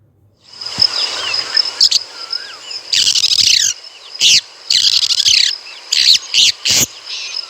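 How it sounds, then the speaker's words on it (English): A long-tailed shrike calls in a series of harsh, scratchy bursts with a few sharper chirps between them, loud and near over a thin background hum. "Call of long-tailed shrike."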